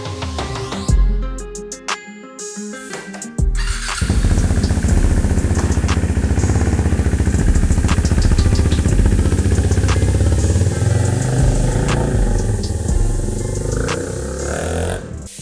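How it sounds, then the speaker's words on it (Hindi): A modified KTM 390 Duke motorcycle with a loud aftermarket silencer starts and then idles with a deep, rumbling exhaust, revving steadily at close range. "नहीं है, आफ्टर मार्केट साइलेंसर है. बहुत आवाज करता है."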